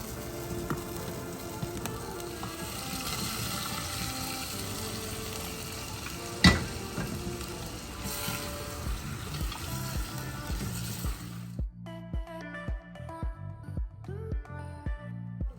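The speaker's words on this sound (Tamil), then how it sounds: "இந்த டைமில் நம்ம அந்த மட்டனை தூக்கி இதில் ஊற்றிடலாம்." Loud, steady sizzling and frying crackle of masala fills the pan, then a sharp splash as mutton drops in, followed by softer bubbling and stirring.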